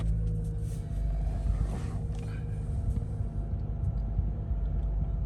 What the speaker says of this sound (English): just start the vehicle up